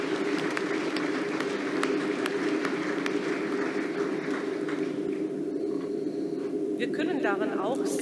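Sustained audience applause fills a large hall at the Synodal Assembly, a dense even wash of clapping heard with a speaker's amplified voice running over it.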